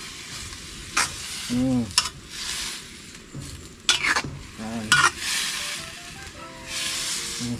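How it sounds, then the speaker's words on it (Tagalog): Green papaya cooked with canned sardines is stirred in a sizzling pan, with several close scraping and clattering strokes over a steady fry hiss and a brief spoken word between them. "Tapos halu-haluin."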